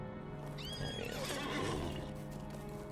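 A horse in the fantasy game Lord of the Rings Online gives a clear whinny, with hoof clip-clops behind it and a steady ambient game backdrop, all close and unaccompanied by talk.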